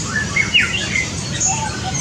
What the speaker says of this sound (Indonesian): Ini kenapa kepodang digacor terus?